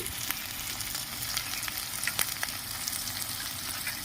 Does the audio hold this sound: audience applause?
no